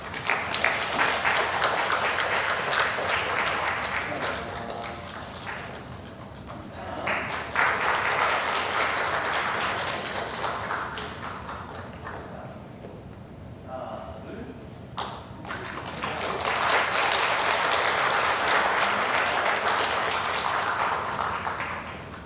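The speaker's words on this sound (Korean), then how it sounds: "사진 촬영할 때 여러분 큰 박수를 보내주세요" A church congregation applauds during a Sunday worship service as a photo is taken, with sustained broadband clapping in three swells that dip in between.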